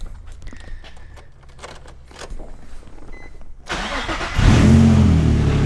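A Nissan 350Z with a freshly replaced fuel pump cranks and fires up, the engine catching loudly near the end and settling into a rough, steady idle after a few seconds of quieter clicks and shuffling.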